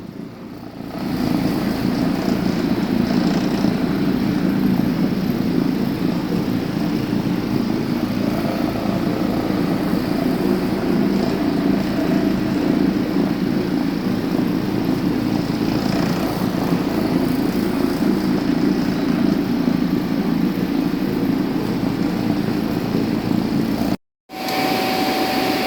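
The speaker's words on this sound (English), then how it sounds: "This is a traffic area and we are gonna scrub." Carpet scrubbing machine deep-cleaning a high-traffic carpet area, a loud continuous motor drone with a steady rumbling hum that runs unbroken for about twenty-four seconds before cutting out briefly near the end.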